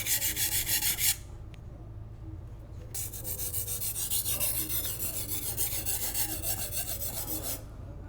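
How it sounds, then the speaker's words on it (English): A knife is ground on a rough sharpening stone in loud, steady rasping strokes, with a pause of about two seconds between the first stroke and a long run of continuous grinding. "keep working the knife until all the chips are completely ground"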